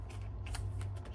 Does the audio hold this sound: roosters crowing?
no